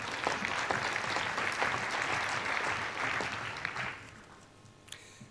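A conference hall audience claps through a union delegates' gathering speech, broad continuous applause that holds steady and then thins out and fades near the end.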